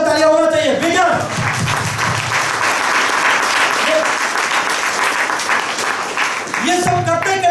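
Loud, sustained applause from a crowd at a direct selling talk, a dense wash of clapping with a voice speaking briefly at the start and again near the end.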